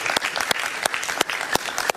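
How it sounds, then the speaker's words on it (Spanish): Audience applause at a Venezuelan gathering, with steady clapping throughout and a few louder individual claps standing out at regular intervals. "Un aplauso para ellos, por favor."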